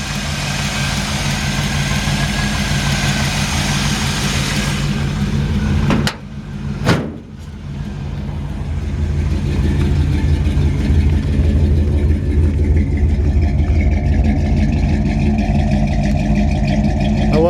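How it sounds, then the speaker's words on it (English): A 1957 Chevrolet 210 Handyman wagon with long-tube headers idles with a steady, rumbling low tone, then blips its throttle once in a sharp rev before settling back into a loud, even idle. "Nice sounding engine."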